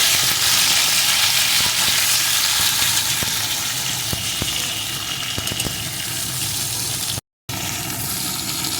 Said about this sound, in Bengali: এখন শিমগুলোকে এর ভিতরে দিয়ে দেবো। শিমটাও বেশ কিছুক্ষণ সুন্দর করে ভেজে নেব।